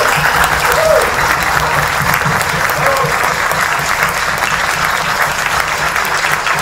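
A concert audience gives steady, sustained applause for a musician from Jujuy, a thick, even wash of clapping that carries on throughout.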